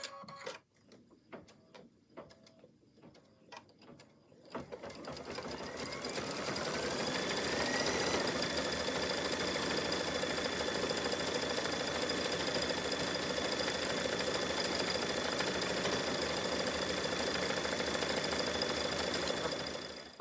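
An embroidery machine stitches out a design, starting with a few separate thumps and clicks, then settling into a loud, steady, fast mechanical hum-and-chatter that holds without a break.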